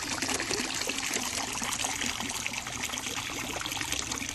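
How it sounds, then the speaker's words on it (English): Water draining out of a Water Tech Pool Blaster pool vacuum, a steady close trickle and splatter of running water, continuous and fairly soft with no voices. "Let the water drain out."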